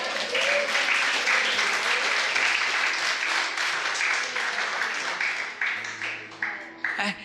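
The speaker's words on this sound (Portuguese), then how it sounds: "aplaude a Deus aí em nome de Jesus." A church congregation during a Brazilian worship service breaks into loud, continuous applause, a dense wall of clapping that holds steady and then thins out toward the end, with faint voices underneath.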